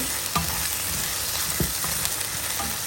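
Eggplant with chillies and dried fish sizzles steadily in hot oil, with occasional scraping and stirring knocks in the pan.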